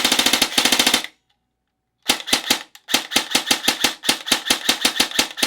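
A Krytac CRB airsoft gun fires crisp, snappy full-auto bursts, close and loud, with a short rapid string, a second of silence, then a longer run of evenly spaced shots.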